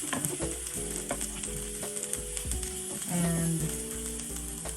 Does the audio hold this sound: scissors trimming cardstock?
no